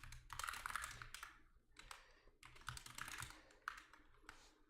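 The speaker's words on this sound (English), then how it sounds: "Sorry, my keyboard's so loud." Loud computer keyboard typing in quick clattering bursts of keystrokes, separated by short pauses, close to the microphone and with no one talking.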